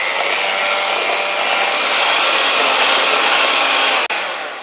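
A loud electric hand mixer whirs steadily while creaming banana cupcake batter, a constant close motor drone that cuts off sharply near the end and then resumes slightly quieter.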